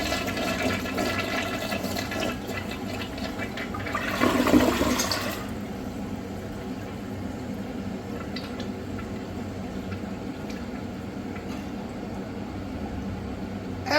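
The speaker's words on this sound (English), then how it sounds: "Let's have a look at a flush now." An American Standard Cadet Specifier toilet flushes with a rushing surge of water that peaks early, then settles into a steady hiss of the tank refilling, close and alone.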